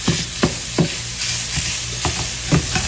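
A spinach wrap cooks in a ceramic skillet with a constant soft sizzle, punctuated by rhythmic scraping strokes from a utensil, close and without talk.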